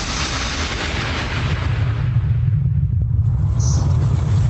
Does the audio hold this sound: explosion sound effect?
yes